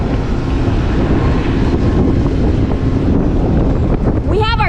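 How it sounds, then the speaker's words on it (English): Strong wind roars steadily across a boatyard in Tahiti during a boat haul-out, a loud continuous buffeting rush that fills the whole stretch. "We have our chafe gear on, but it still is nerve-wracking because of all the wind"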